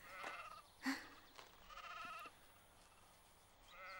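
Several sheep bleat in quick succession at a farm in a Western film, the wavering calls overlapping at close to middle distance with no talk over them.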